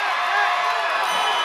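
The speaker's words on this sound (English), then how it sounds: "That gets the crowd into it" Crowd roaring and cheering at a DSU Hornets vs UMES Hawks college basketball game, a loud, steady wall of voices that holds without a break.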